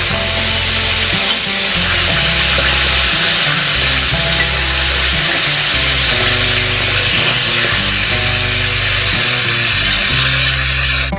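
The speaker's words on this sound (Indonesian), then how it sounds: "Kita goreng memang sampai setengah matang." Fish roe fries in hot oil in a pan until half cooked, a loud, continuous crackling sizzle with irregular popping bursts throughout and no talking.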